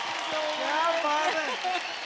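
Applause from a studio audience for a contestant on a Hindi TV singing show, steady and moderately loud over about two seconds, with voices audible across it.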